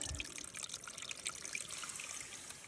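Spring water trickling out of a mountainside during an Alaska Dall sheep hunt, a steady soft close dribble and splash running alone throughout.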